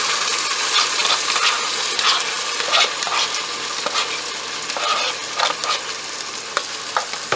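Green chili, ginger-garlic, coriander and mint paste frying with onions in a pan for prawn biryani, a steady close sizzle with scraping stirs running throughout, no talking.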